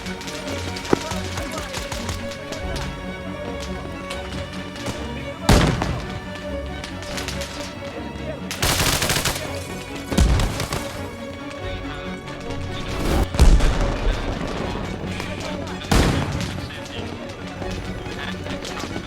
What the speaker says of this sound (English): Throwing a grenade out.